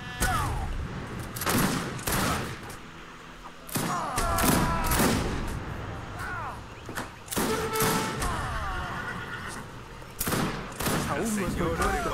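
Gunfire and explosive blasts in an Age of Empires 3 battle, where dynamite-firing guns join a dense, loud skirmish of repeated shots and booms, with voices talking over the fighting.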